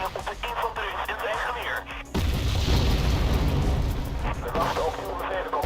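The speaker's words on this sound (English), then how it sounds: "Here comes the artillery spam." Artillery shells exploding in the Wargame strategy video game, a steady roar of deep booms and bursts that thickens and grows louder partway through, with faint background chatter underneath.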